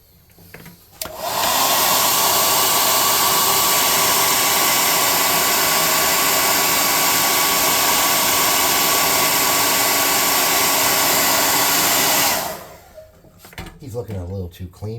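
A hair dryer blows steadily and loudly on a handmade tabletop-game miniature for about eleven seconds, starting and stopping abruptly, with handling noises after it shuts off.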